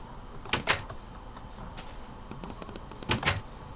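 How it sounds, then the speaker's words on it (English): A door opening in a modded survival video game with a solar apocalypse setting, a few soft thunks and scrapes over a steady hiss, fairly quiet. "the problem is if I open this door,"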